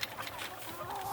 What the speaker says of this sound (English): Look at these renegade chickens.